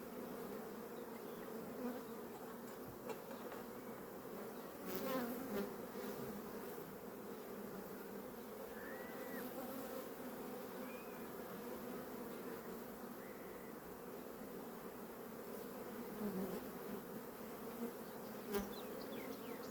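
Honey bees buzz around an expanding beehive being opened to add frames, a dense continuous hum close by with a few sharper passes of individual bees flying near.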